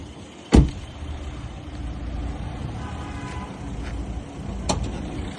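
A 2015 Mercedes GLK 350 engine idles with a steady, quiet low rumble and a faint whine, broken by a sharp click near the start and another near the end.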